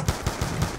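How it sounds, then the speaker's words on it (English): Gunfire in a zombies video game: four rapid, punchy bursts of automatic shots in under a second, close and loud, with no talking. "you'll hear my gunfire in the background"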